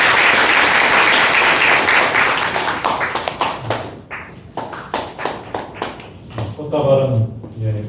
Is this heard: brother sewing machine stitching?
no